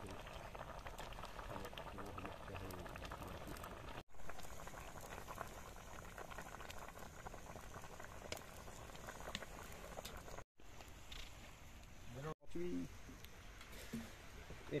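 Fish soup with boiled papaya bubbling in a pot on a beach cookout, a soft continuous simmering patter with brief gaps, heard faintly under people talking nearby.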